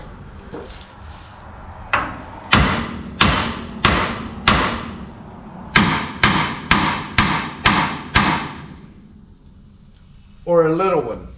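A small hammer knocking sharply on a hard surface, about a dozen crisp close blows in two quick bursts with a short pause between, followed by a brief excited voice at the end.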